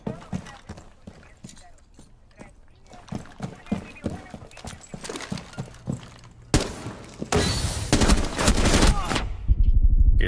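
Video game gunfire, bursts of sharp shots and rapid automatic fire that grow denser and louder toward the end, mixed with people talking.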